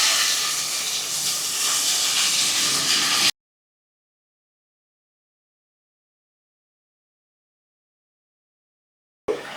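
Chopped tomatoes for an Andhra-style egg curry hit a hot pan with a steady, steamy hiss that lasts a few seconds, then gives way to silence.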